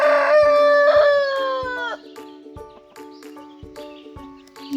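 A farm rooster gives a loud, close crow that drops off near the end, followed by softer rhythmic knocking and scattered farmyard noises.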